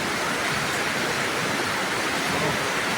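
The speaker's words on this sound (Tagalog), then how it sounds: "Lakas ng ulan." Heavy rain pours steadily outdoors, a dense, continuous hiss that stays loud and unbroken throughout, with no voices.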